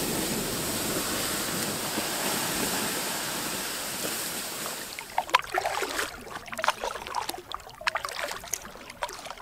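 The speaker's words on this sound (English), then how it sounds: "Paddling at first light." Canoe paddling on calm water at first light on a chilly wilderness trip: a soft steady wash for about five seconds, then a string of close, irregular water splashes and drips from paddle strokes, with no talk.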